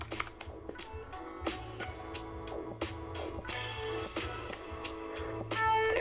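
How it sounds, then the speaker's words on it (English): Keys clatter on a computer keyboard as a search shortcut is pressed during article formatting, giving a fairly close run of irregular clicks and taps with no talking. "So we'll go ahead and type Control F to bring up the search"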